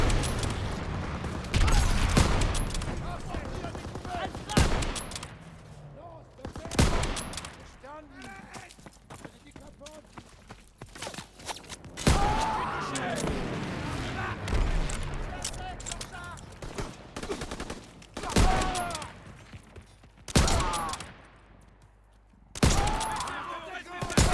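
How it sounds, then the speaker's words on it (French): Machine gun fire from a half-track in Call of Duty WWII, set in a Paris street battle: loud bursts of gunfire and explosive blasts in repeated waves, with shouted voices and battle noise between them. "c'est la mitrailleuse du Half-Track"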